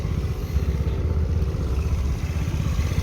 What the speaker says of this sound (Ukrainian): Все, скутер працює, все добре.